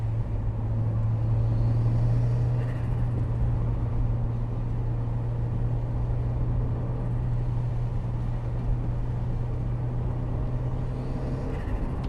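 A turbocharged Mk1 Mazda MX-5 engine pulls under boost on a wet road, a steady loud drone with a constant low hum that holds for the whole stretch, with no talking over it.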